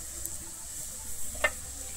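Onions and green chillies fry in oil with a steady, soft sizzle and a brief stirring clink, close and faint, and nobody talks.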